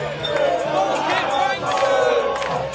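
A large stadium crowd of cricket fans in South Africa cheers and shouts continuously, a dense roar of many voices that swells and dips, loud and close.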